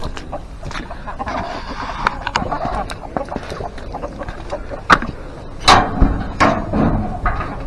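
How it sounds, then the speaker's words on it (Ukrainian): Hens cluck and squawk in short bursts nearby in a snowy yard, mixed with scuffling and a few sharp knocks, over a busy outdoor background. "І зразу кури біжать."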